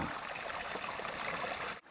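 Water trickles steadily in a small mountain stream in North Idaho, a close, continuous splashing and gurgling flow that cuts off abruptly near the end.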